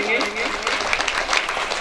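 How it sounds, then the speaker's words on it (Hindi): Guests at a retirement function greet a photo presentation with hearty clapping, a brief stretch of mid-loud applause with voices mixed in. "फोटो है तो आप एक बार जोरदार ताली से स्वागत करेंगे।"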